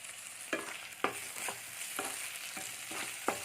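Biryani masala with green chilies and salt is stirred in a pan for baby potato biryani, about six distinct spatula scrapes at roughly half-second intervals over a soft, quiet sizzle.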